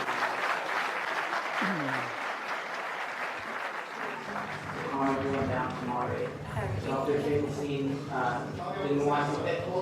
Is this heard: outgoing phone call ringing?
no